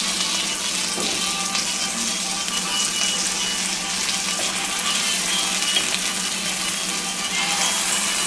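Pork fingers going back into a crowded frying pan, giving a continuous loud sizzle and hiss that stays even throughout, with no voices.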